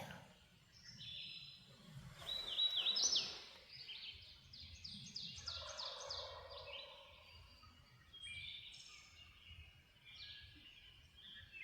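A wild turkey gobbles at middle distance in spring, a rattling burst followed by quieter bird calls and chirps over low outdoor rumble in West Virginia.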